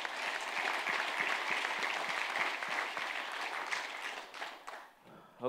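A conference audience at a tech talk on Bitcoin Cash integration at Coinbase applauds in a dense, sustained wash of clapping that tapers off near the end as a voice begins.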